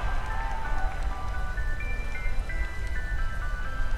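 Rain falling during a battle in Pokémon Sword and Shield, a dense continuous patter with game music tones layered over it, steady and fairly loud throughout.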